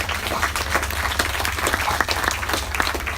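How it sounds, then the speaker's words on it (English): An audience applauds at an alligator show in the Florida Everglades, brisk steady clapping from a nearby crowd outdoors that carries on for several seconds without talk. "Give him a round of applause for seeing some cool behavior."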